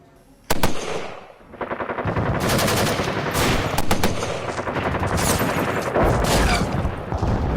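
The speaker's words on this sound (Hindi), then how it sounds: "आइए अब आपको दिखाते हैं बॉर्डर के इस लाइव एक्शन में जवानों की फायर पावर।" Soldiers at the Hajipur border in Jammu fire guns in loud, rapid bursts, with sharp close shots and sustained automatic volleys overlapping continuously after an opening crack.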